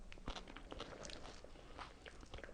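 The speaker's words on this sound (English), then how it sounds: "Apologies to anyone who's got that thing where they can't bear to hear people crunching that" Someone crunching on raw salted vegetables being prepared for fermentation, a run of close, crisp bites and chews in an irregular rhythm, quiet and alone.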